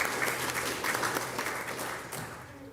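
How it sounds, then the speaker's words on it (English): An audience at a county trails summit claps for a county supervisor, a dense, even round of applause from a crowd that holds steady and then starts to thin near the end. "I think we need to give him a round of applause,"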